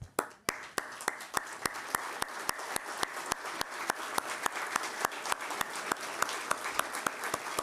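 An audience at the Moreno Valley State of the City 2023 event gives board and commission members a round of applause. It begins as a few near, sharp claps and grows into steady, evenly paced collective clapping.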